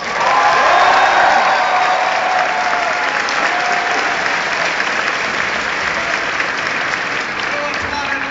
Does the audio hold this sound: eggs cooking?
no